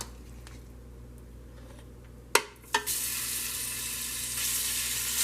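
Garlic dropped into hot oil in a pan: two sharp clattering hits, then a bright, steady sizzle that carries on at close range with no talk over it.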